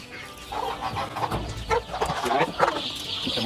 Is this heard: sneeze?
no